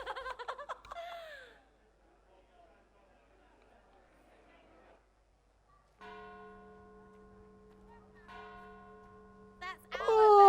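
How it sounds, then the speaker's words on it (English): Church bells ring in the Dragon Age Inquisition video game, sustained tolling tones sounding in the second half, while people laugh and giggle at the start and again at the end. "That's our bells, knobbers."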